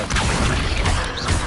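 Casting Accio, the summoning spell in Hogwarts Legacy, produces a brief, full-bodied whoosh with a thumping, booming impact. It stays loud and steady for about a second and a half, with nothing else on top.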